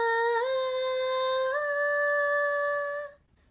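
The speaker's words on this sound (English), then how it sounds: "A falsetto voice with the same notes will sound something like this." A high falsetto voice sings a sustained, light, airy tone, holding one pitch and then stepping up twice in small moves, loud and alone for about three seconds before fading out.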